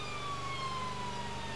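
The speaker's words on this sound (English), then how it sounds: "So keeping that siren tone ahead of us." A Mercedes Sprinter ambulance siren gives a long, steady wail that slowly falls in pitch, continuous and loud, over the low rumble of the moving ambulance.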